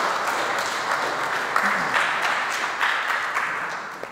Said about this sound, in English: Have a round of applause for Felix Held.